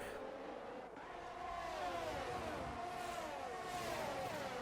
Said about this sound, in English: What a sight that is to see 2 Formula 1 cars at 190 miles per hour go really for it